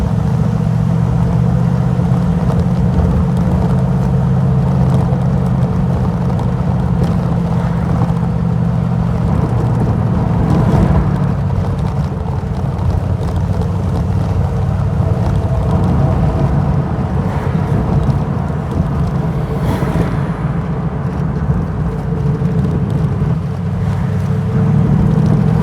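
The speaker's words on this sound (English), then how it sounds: "Noise of the engine, it just sounds so good." A V8 car engine cruising along country roads in the Derbyshire Peak District, a steady deep rumble with a continuous low drone and road noise heard from inside the car, loud and unbroken throughout.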